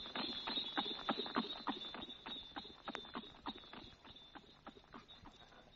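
Horse hooves clip-clopping in a quick, steady rhythm as a horse pulls a carriage at full speed, gradually fading slightly.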